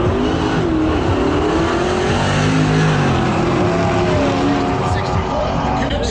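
A drag racing car makes its pass down the strip at a street-car drag event, a loud continuous engine roar with shifting harmonic sweeps as it accelerates, heard alongside crowd and ambient noise throughout.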